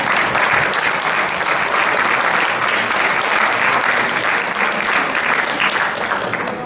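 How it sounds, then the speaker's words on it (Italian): A restaurant audience at a solo concert bursts into sustained applause, a thick, even roar of many hands clapping at close range that holds steady throughout before tapering slightly at the end. "quindi farei a lui un altro bel applauso"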